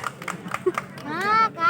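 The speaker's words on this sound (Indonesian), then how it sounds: "Ah, kae tepuk tangan." Scattered hand claps ring out at an inter-RW village volleyball tournament in Dusun Sambi, Ngrayun, a few sharp slaps early on before a voice takes over, with light crowd noise underneath.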